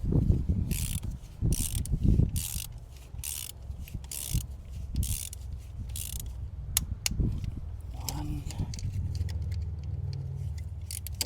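A torque wrench ratchets T27 bolts tight on a 2010 Volkswagen Passat B6 during PCV valve work, a close run of mechanical clicking and rubbing strokes with brief pauses between bursts.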